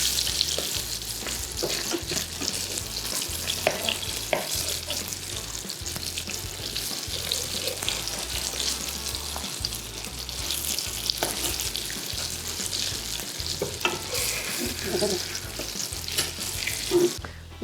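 Branzino fillets sear in a hot pan with a steady, crackling sizzle throughout, broken by occasional clinks and scrapes as the fish is flipped, with no talking.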